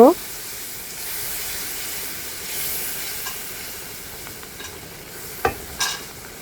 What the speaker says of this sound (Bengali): এখন দিয়ে দিব হচ্ছে একটা চামচ হলুদের গুঁড়ো নাড়াচাড়া করে দিব